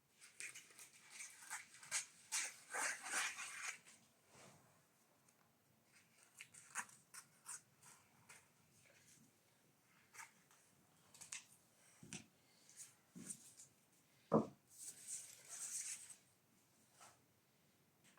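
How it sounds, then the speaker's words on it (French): Scissors snip around the edge of baking paper beneath rolled-out pizza dough for a raclette cheese and cured ham pizza, giving sparse, quiet, irregular cuts with short pauses between them in a still kitchen. "Vous découpez le papier autour."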